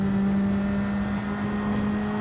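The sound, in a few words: race car engine over-revving into a turn, Gran Turismo 7 video game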